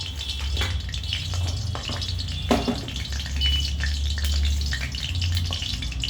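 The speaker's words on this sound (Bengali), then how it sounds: "তেলটা খুব ভালো করে গরম হয়ে গেছে এবার এর মধ্যে আমি দিয়ে দেব পেঁয়াজ রসুন আর লঙ্কা" Onion, garlic and green chili hit hot oil in a pan, giving a loud, steady sizzle with bursts of crackling and a clink or two from a stirring utensil, with no voices heard.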